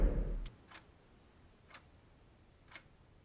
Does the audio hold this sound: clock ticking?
yes